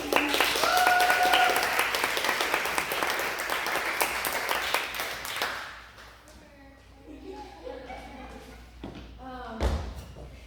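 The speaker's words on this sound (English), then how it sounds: "Give her a round of applause, please." Audience applause at a youth poetry event rises loudly with dense clapping for several seconds, then thins out to scattered claps and faint background murmur, with a few louder thumps near the end.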